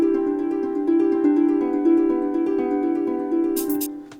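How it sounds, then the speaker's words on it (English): Harp plays a steady run of 16th notes at roughly 120 BPM, bright plucked tones ringing together in a continuous even pattern, close and clear with no voices, fading slightly at the end. "we have this harp part, which is going in 16th notes"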